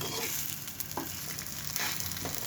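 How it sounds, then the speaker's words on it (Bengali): A snack fries in oil in a pan, making a dense, continuous crackling sizzle with occasional stirring scrapes, close by and with no talk. "আরেকটু তেল দিয়ে দিয়েছি পরে ভেজে নিচ্ছি"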